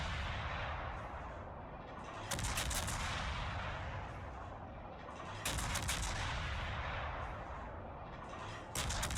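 Destroyer guns firing armor-piercing shells in a naval warfare video game, three loud salvos spaced a few seconds apart over a constant engine and ocean rumble, with no talking.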